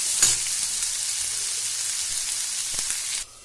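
Tomatoes and vegetables frying in hot oil in a pan, a steady close sizzle with a faint utensil clink near the start, cutting off abruptly at the end.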